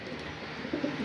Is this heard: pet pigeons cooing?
yes